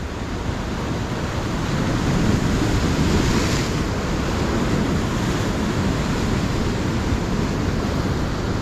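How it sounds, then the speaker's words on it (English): Big sea swell rolling onto a beach at high tide where rays are being fished, a continuous loud wash of surf with a building break around the middle, with wind buffeting the microphone throughout and no talk. "you can see the swell's really rolling in now"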